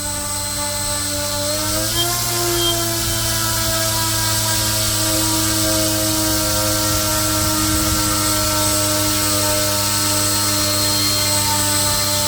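Small electric motor spinning an 11.86x3 3D-printed propeller at three-quarter throttle on a thrust test, a steady loud whine and whir with a slight pitch shift early on, then holding constant.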